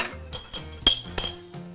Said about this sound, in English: Sometimes it's nice to add a few ice cubes into the glass